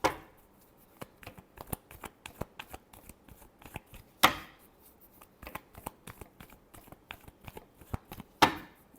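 Tarot cards being shuffled by hand, a quick run of crisp riffling slaps and flutters close up, with a couple of sharper card snaps standing out over a quiet background.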